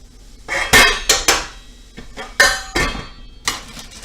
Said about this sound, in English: Give the onions a little stir.